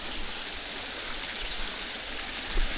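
A waterfall on a wooded trail near Marquette on Lake Superior, close to a leaking penstock, gives a steady, broad rush of falling water that holds even and constant throughout, with no voices over it.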